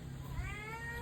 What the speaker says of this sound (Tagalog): Tingnan nyo itong mga pusa namin. Naghihintay na sila ng makain, ng ingay.